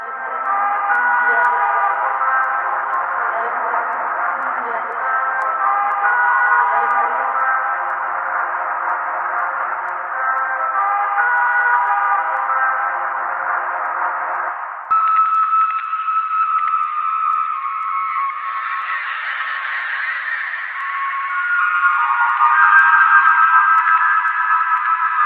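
Distorted, warbling trumpet-like brass tones from the video game Half-Life 2 play loud and sustained. The pitch shifts into a higher, harsher passage about halfway through, with no voices.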